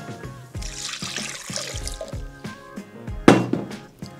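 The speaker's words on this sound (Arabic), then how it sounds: "نحيدو داك العصاف نصفيو مزيان مزيان" Fresh lemon juice being strained, giving close, small drips and trickles of liquid with soft squishing and occasional splashy pours.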